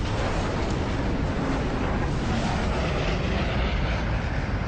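A massive detonation of roughly 9,000 kilograms of explosives, a small initial blast followed at once by a huge secondary one, sounds as a sustained, loud, dense roar with heavy low rumble and no voices.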